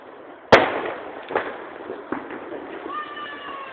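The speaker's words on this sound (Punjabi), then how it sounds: "ਪਟਾਕੇ ਫੋੜ ਲਿਆ ਬੇਟਾ ਤੂੰ ਪਟਾਕੇ ਲਾਇਆ" Firecrackers burst outdoors: one sharp, loud bang followed by a few smaller pops and crackles, with faint background talk.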